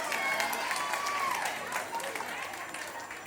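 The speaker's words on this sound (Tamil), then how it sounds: "கங்கனாக்காக ஒரு பெரிய கைத்தட்டல் கொடுத்தலாம்" A crowd at a senior summer dance fest claps for the next dancer, a dense, steady applause that fades slightly, with a voice speaking briefly over it.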